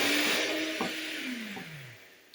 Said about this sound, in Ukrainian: І злегенька збиваю міксером.